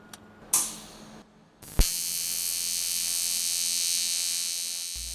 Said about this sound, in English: now that we have a clean fit, I can weld it on